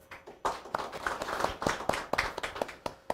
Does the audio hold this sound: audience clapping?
yes